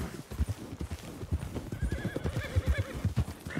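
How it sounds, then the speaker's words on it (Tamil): A horse in Red Dead Redemption 2 stands close by, its hooves clopping in an uneven shuffle while it gives a clear whinny partway through, loud and near with no talking. "இங்கிலே ஏதோ குதிரை நிக்குது லெஃப்ட்ல"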